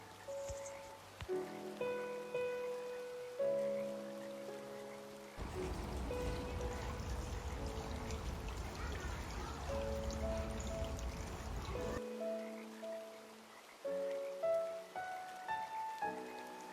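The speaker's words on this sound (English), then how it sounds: "It's a rainy day today" Rain falls at Tennoji Zoo in Osaka, a steady wash of drops and splashing that swells loudly midway through the clip, with quieter tonal background sounds around it and no talk.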